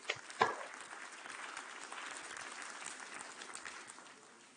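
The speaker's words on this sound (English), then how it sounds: "Let us give them a warm applause." Audience applause at a university convocation ceremony, a steady wash of many hands clapping that swells briefly near the start and then fades gradually, heard alone without talk.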